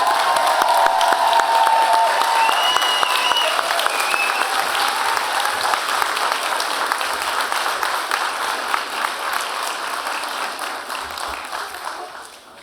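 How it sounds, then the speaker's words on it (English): Sustained applause and some cheering from a convocation audience honouring graduates, a dense wash of clapping in a hall that stays strong and then gradually fades toward the end. "join me in a huge round of applause for our amazing graduates"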